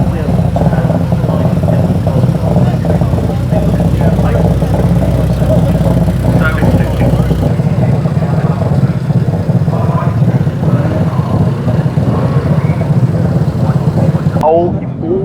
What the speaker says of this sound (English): What a lovely TVR. Listen to that burble.